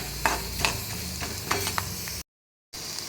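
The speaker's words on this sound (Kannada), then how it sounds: "ಆಮೇಲೆ ಇದಕ್ಕೆ ನಾವು ಒಂದು 7ರಿಂದ 8 ಬೆಳ್ಳುಳ್ಳಿ ಹೆಸರುಗಳು ಇರ್ತಾವಲ್ಲ, ಅದನ್ನು ಹಾಕಿ ಸ್ವಲ್ಪ ಫ್ರೈ ಮಾಡ್ಕೊಂಬಿಡಿ ನೀಟಾಗಿ." Garlic cloves frying in a pan with oil while being stirred, a steady close sizzle broken by several sharp scraping and stirring clicks, then a brief dropout before the sizzle resumes.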